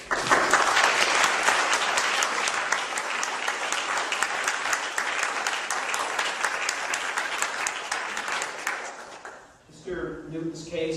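A large audience breaks into sustained, dense applause that stays loud for about nine seconds, then fades out as a voice begins speaking.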